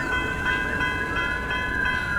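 An Amtrak Auto Train hauling a long string of 30 auto carrier cars rolls past near a yard, with a steady loud rumble and sustained ringing, squealing wheel tones continuing throughout.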